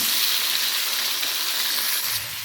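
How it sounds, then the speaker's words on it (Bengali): Potatoes fry in hot oil in a kadai for a Bengali fish curry, a loud, dense, continuous hiss and sizzle that eases slightly near the end. "দেখো, আলুগুলো কড়াইয়ে দিয়ে দিচ্ছি, এইভাবেই ভালো করে আলুগুলোকে ভেজে তুলে নেব।"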